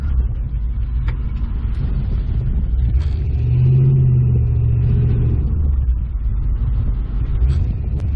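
A stock G-Body car driving an autocross course with a rookie at the wheel, its mid-range engine rumbling steadily and rising into a louder rev in the middle before easing back, close and continuous with no talk.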